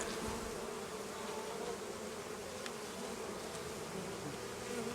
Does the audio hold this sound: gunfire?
no